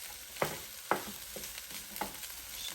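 Leftover dinner rice being stir-fried in a Power XL cooker with bacon, a steady soft sizzle broken by a few sharp scraping stirs of the utensil, close and fairly quiet with no talking.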